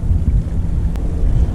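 A boat passes on Manila Bay on a windy day, a low engine rumble mixed with heavy wind buffeting the microphone and water wash, loud and close.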